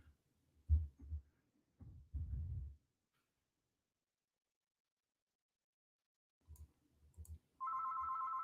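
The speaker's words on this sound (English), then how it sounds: "And there's my phone ringing." Faint low thumps and bumps give way near the end to a phone's electronic ringtone, a steady tonal ring starting abruptly and continuing to the close, fairly quiet and without talk.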